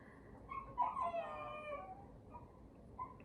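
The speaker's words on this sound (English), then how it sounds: "Don't mind my dog in the background." Pet dog somewhere in a house gives a faint, drawn-out howl with whimpering, distant and quiet beneath a low room hum.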